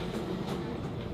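A free city tram passes by on a Melbourne street: a steady, fairly loud broadband rumble and rolling roar across the whole moment, with no voices over it.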